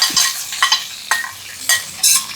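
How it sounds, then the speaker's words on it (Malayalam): Mustard seeds, two whole dried chillies, curry leaves, ginger, garlic, green chilli and onion fry in hot oil in a pan, with a steady sizzle broken by a few sharp stirring scrapes, close and fairly loud. "കടുകിടണം, 2 മുഴുവൻ മുളക് ഇടണം, വേപ്പിൻ്റെ ഇല, ഇഞ്ചി, വെളുത്തുള്ളി, പച്ചമുളക്, ഉള്ളി."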